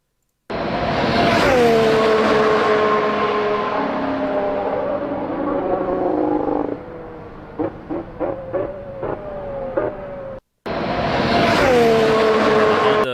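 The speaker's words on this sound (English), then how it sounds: "The Honda downshifts always sound very, very cool, very good, very aggressive as well." A Red Bull Honda Formula 1 car screams past trackside in pre-season testing, its engine note falling as it passes, then a rapid series of sharp downshift blips before another car roars by loudly.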